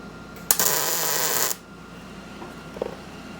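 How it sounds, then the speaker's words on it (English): A single tack weld on a 1980 Dodge W200 truck rollbar: one loud, crackling burst lasting about a second, then quiet with a faint click afterward. "Stand by for tacking."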